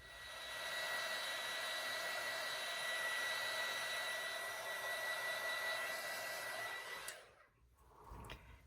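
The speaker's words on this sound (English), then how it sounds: "I use my heat gun and I just kind of hold it up high just to kind of blow over it a couple of times" A heat gun blows steadily over a gelli printing plate to dry acrylic paint, a loud, even whirring hiss lasting about seven seconds before cutting off, followed by faint handling noise.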